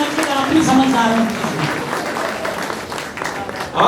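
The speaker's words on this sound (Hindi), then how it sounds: "अच्छा अगर जरा तालियां बजाइए" Audience applause at a live Hindi poetry recital, a dense burst of clapping that swells and carries on steadily under a speaking voice before fading slightly near the end.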